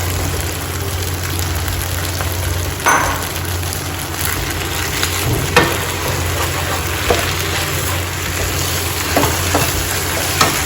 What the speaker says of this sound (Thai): แล้วก็ผัดให้เข้ากันเลยครับ ตอนนี้เส้นเริ่มได้ที่ครับ ผมใส่ผักคะน้าลงไปครับ